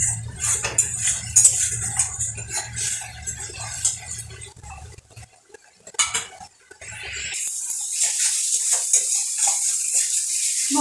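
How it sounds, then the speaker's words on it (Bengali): Spice paste for a bam (eel) fish curry being sautéed in a pan: loud metallic clatter and scraping of a spoon stirring, followed by a steady bright frying hiss once the stirring pauses. "মশলাটাকে এবার ভালো করে কষিয়ে নেব"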